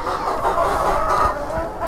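Hens cluck and murmur steadily at feeding time, a dense flock chattering continuously close by with no talk over them.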